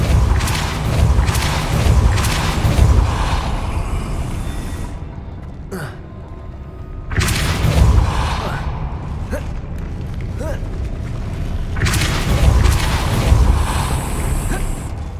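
Depulso spell cast in Hogwarts Legacy: a forceful whooshing burst and a deep rumbling boom, rising and falling in waves with louder surges, over steady ambient game noise.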